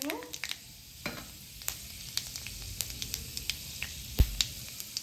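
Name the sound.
panch phoron spices sizzling in hot oil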